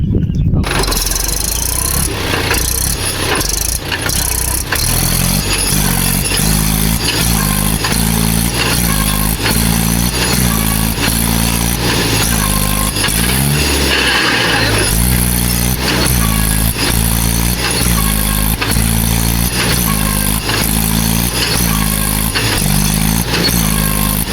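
A vehicle stuck in a pit on farmland roars loud and close for the whole stretch. The engine is revved in repeated pulsing surges, with a squealing strain and clattering over the top.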